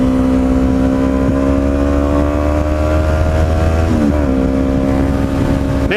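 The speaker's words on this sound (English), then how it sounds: "the engine just wants to just keep going" A motorcycle engine runs steadily in cold weather, loud and close, with a sustained droning hum that rises slightly in pitch and then dips near the end.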